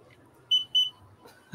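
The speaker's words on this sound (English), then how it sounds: "My little thermal gun." A small handheld thermal gun gives two short, clear electronic beeps in quick succession, fairly close, with no talking over them.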